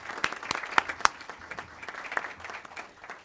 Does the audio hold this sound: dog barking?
no